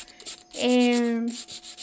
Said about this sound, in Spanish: La voy a lijar un poquito más a ver si cambia un poco más su apariencia.